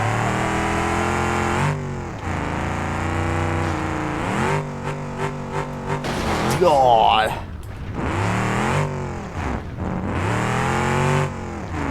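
A monster truck in BeamNG roars and revs in rising and falling surges, loud and close, with a person talking over it in places.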